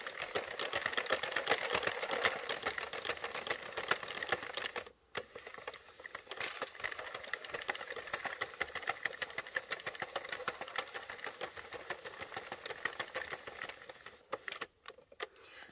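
A Sentro knitting machine is cranked through rows of solid black yarn for a fair isle beanie, producing a continuous, fairly faint mechanical clatter of rapid ticking pegs, with a brief pause partway through.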